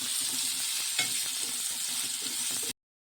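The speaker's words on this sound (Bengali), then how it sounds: "এখন পেঁয়াজ কুচিগুলোকে সুন্দর করে ফ্রাই করে নেব" Chopped onions frying in a pan for a mustard-paste pabda fish dish, giving a dense, close, steady sizzle with a soft stir and a brief tap partway through, then cutting off suddenly.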